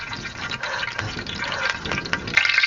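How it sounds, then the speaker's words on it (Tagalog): Water heating in a cooking pot for eggplant adobo with sardines, bubbling and hissing steadily for the whole stretch, fairly close and moderately loud, with no talking. "Bubukal na agay. Mm. mm. Kumukulo-kulo na."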